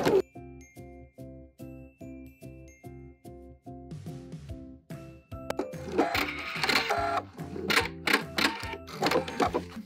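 A sewing machine backstitches an apron pocket, first in slow, evenly spaced humming pulses, then in a busier, clattering burst of faster stitching with sharp ticks, close and alone.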